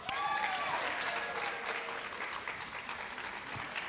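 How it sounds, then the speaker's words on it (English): A school literacy competition crowd applauds young first-grade participants: a sustained, even round of clapping with a few faint voices beneath it, holding steady before easing slightly. "if we can give our first grade participants another round of applause"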